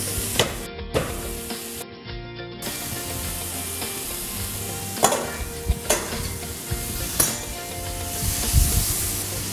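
Chopped onions and spinach stems fry in melted fat in a pan, a steady close sizzle broken by a few sharp scraping stirs and clinks of a utensil, with no voices.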